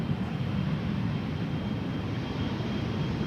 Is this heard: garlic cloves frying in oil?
no